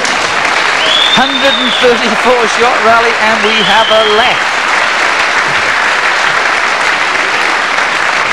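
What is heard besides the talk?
crowd applauding at a squash match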